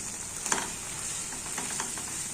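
Chili powder frying with softened tomatoes in a pan for a Tamil lentil-dumpling kuzhambu, giving a steady close hiss with a few brief stirring scrapes and no talk.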